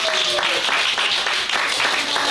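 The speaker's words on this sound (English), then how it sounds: "Can you get a round of applause for Dylan in the booth?" An audience applauds for Dylan in the sound booth at the end of a live show at The Laboratory, a steady dense wash of clapping lasting the whole moment, fairly loud, with a faint voice or tone at the start.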